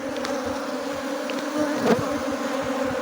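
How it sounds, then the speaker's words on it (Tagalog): Agitated honey bees swarming around a hive during honey harvesting, a steady dense buzz of many insects close by, with one louder bee passing near the middle. "Kagulo na po ang bubuyog."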